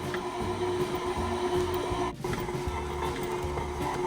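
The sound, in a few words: electric mixer kneading bread dough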